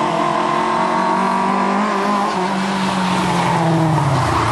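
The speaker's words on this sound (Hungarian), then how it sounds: "figyelj, elment ez a lada" A Lada rally car at a rallysprint roars past close by, its engine loud and continuous with a rising and falling pitch and some tire noise over a steady background rumble.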